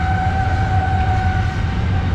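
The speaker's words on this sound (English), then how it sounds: "Got the trains going again today. Man, that's a lot of these trains are getting longer and longer." Freight trains roll past steadily and loud, a constant low rumble of rail cars carrying two sustained high whining tones from wheels on track, with no voices.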